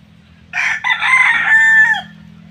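A rooster crows once nearby at a farmyard, a loud drawn-out cock-a-doodle-doo lasting about a second and a half over a low steady background hum.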